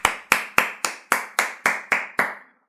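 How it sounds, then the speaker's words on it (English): Nine sharp hand claps ring out close and loud at an even, steady pace, roughly three per second, each snapping crisply before a short decay. "I'm clapping it up for my Atlanta Braves"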